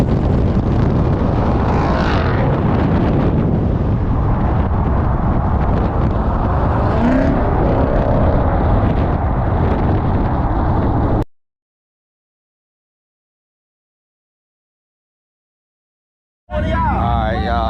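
A 2020 Ford Mustang Bullitt fitted with an H-pipe exhaust roars loudly and steadily up close, with wind buffeting the microphone, then the sound cuts to silence for several seconds before briefly returning.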